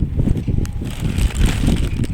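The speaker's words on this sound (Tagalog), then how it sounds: "mahangin na masyado dito" Strong wind roars against the microphone at a fishing spot in Candelaria, Pampanga, a loud, continuous low buffeting with uneven surges.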